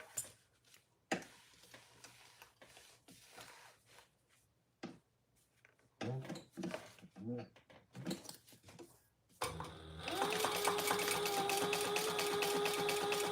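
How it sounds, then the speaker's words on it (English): A sewing machine stitches along the top seam of a trifold wallet at a quarter-inch seam allowance, starting after earlier quiet ticking and handling noises and running as a loud, steady whir to the end. "we're going to sew along the top at the seam allowance in the pattern"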